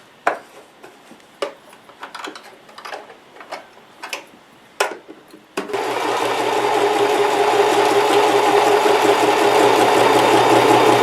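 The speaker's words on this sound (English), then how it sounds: "I'm going to get my sewing machine out because I'm not going to glue these." A sewing machine stitches fabric for a DIY bunny: a few scattered clicks and taps come first, then the motor starts up and runs in a loud, continuous whir close by.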